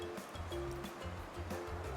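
Waves wash continuously onto the seashore at Ganpatipule on the Konkan coast of Maharashtra, a fairly faint, steady surf hiss with soft low rolling surges.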